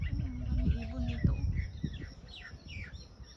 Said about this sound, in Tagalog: Ayan, ang dami ibon dito.